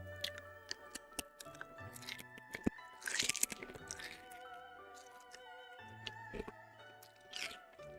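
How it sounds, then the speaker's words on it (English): Close-up crunching of a lemon and strawberry candy cane, with sharp cracks and crunchy chewing bites spread unevenly through a quiet room. "let's crunch it, shall we?"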